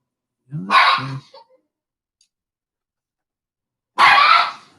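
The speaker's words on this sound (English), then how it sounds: "The dogs are fighting over the space on the couch" Two loud, rough dog barks or snarls from dogs fighting over space on a couch, close by, separated by a few seconds of silence.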